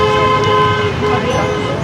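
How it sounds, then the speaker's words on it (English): Passing cars honk their horns in support of a peaceful protest against the PJD Link highway in Bandar Utama, a steady blaring toot under traffic noise. "there are cars who are supporting the protest with their horns, honking as they go past"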